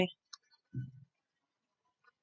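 A few sparse, faint computer mouse clicks on an OK button in a statistics program, separated by quiet gaps, with a brief low thud midway.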